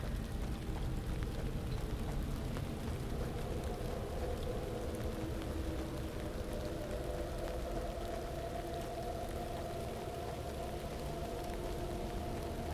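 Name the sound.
heavy rain pouring down in a video game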